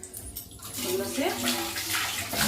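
Fish being washed under running water in a home kitchen during cleaning for a fish fry, a steady rushing splash that runs on throughout with faint talk in the background.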